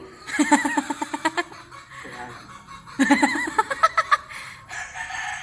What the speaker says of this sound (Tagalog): Manok, Elliot!